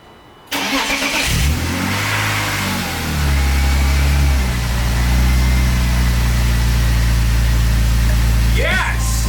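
A BMW E36 engine fires up for the first time after a VANOS rebuild, cranking briefly then catching with a loud surge before settling into a steady idle, with a voice briefly over it near the end.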